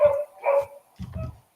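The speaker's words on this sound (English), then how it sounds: "You hear my dogs?" Several dogs barking in short bursts at a farmhouse in the Vermont countryside, two sharp bark clusters followed by lower, rougher barks, fairly close and loud with brief silences between.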